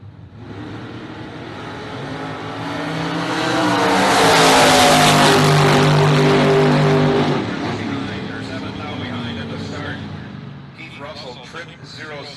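Bracket race cars, a Roadster and a Camaro, launch at a drag strip, a loud engine roar swelling and fading over several seconds as they pull away, with an announcer talking over it.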